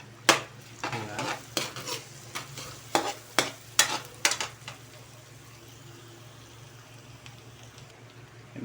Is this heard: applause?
no